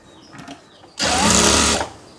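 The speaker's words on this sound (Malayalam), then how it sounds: "നമ്മളൊരു അര ഇഞ്ചിൽ തയ്ച്ചാൽ മതി ഒരുമിച്ച് വെച്ച് തയ്ക്കുക" An electric sewing machine stitches the bottom of a churidar, whirring loud and steady for under a second after a quiet pause with faint handling noise.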